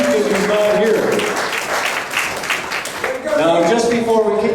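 Audience applause at a comedy show rises and falls for several seconds, with a voice speaking over the clapping in the middle.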